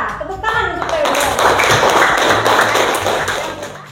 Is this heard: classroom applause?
yes